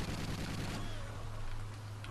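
Pistol fire in a Call of Duty game comes in a quick burst of sharp reports at the start, then fades into a lingering low rumble and ambience, fairly quiet overall.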